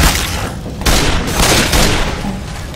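Rapid bursts of gunfire from the zombie shooter Left 4 Dead 2 crackle loudly in a dense, continuous volley for nearly three seconds, with sharp surges of shots layered over a constant roar.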